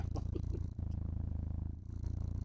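A cat purrs loudly and steadily up close, a deep rhythmic rumble like a diesel engine that pulses with each breath and runs throughout without talking.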